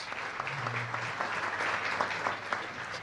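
An audience at a political luncheon breaks into sustained applause, a dense continuous patter of many hands clapping at moderate distance for the whole stretch.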